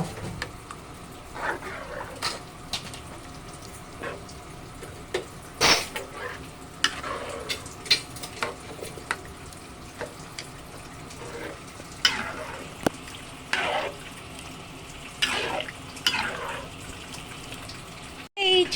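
A spoon scrapes and clinks around a cooking pot of simmering dinuguan, a pork blood stew, in irregular close strokes over a soft bubbling background, with faint voices now and then.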